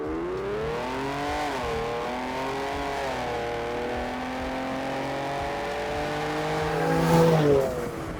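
A Ford Explorer ST fitted with a Whipple Stage 1 kit launches in a 0-60 mph run in normal mode, its engine note climbing steadily through gear changes and swelling loud near the end, close and with no talk.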